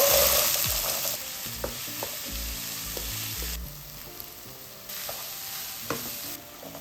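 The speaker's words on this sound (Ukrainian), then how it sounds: "Починаємо готувати нашу засмажку. Спочатку додаємо цибулю, потім моркву, потім наші дрібно нарізані гриби." Onion, carrot and finely chopped button mushrooms fry in a pan for a soup base, with a continuous crackling sizzle and rhythmic stirring scrapes. The sizzle is louder at first and softens partway through.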